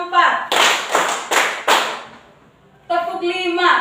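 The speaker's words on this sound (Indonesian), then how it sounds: "Tepuk 1, tepuk 2, tepuk 3, tepuk 4," A classroom of students claps in a quick rhythmic pattern, four sharp bursts of hands led between spoken counting from a teacher, with voices before and after.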